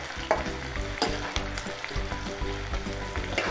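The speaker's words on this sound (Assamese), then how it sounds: "পিঁয়াজখিনি অলপ সময় ভাজি ল'ব লাগিব।" Chopped onions frying in hot oil in a pan, with a dense, steady sizzle up close and occasional clacks of stirring.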